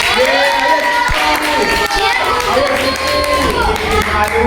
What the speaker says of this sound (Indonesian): tepuk tangan dulu untuk Silvi.